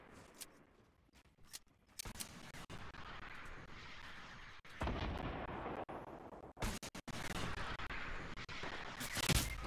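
Heavy gunfire and explosions from the Fortnite video game, a dense, continuous barrage of loud shots and blasts that rolls on for nearly ten seconds with brief gaps, swelling again toward the end.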